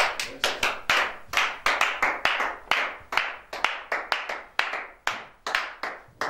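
A congregation claps in worship to acclaim Jesus, a steady run of sharp hand claps in a quick, slightly uneven rhythm, fairly close and alone without singing or talk.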